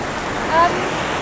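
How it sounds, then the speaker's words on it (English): Sea surf on Brighton Beach in St Vincent and the Grenadines rushes in a continuous, loud roar of breaking waves and wind, with no distinct pauses. "Now you hear the thunderous sea."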